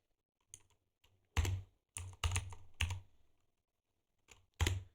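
Python code is typed on a computer keyboard in short bursts of clicky keystrokes, close and crisp, separated by brief pauses in an otherwise quiet room.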